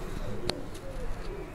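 Sialkoti pigeons give soft, low cooing close by, with a brief sharp chirp standing out over a steady background hum.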